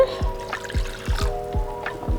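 Water being poured for focaccia dough, a close trickling pour with a run of splashy glugs and drips at a steady rhythm and no talk.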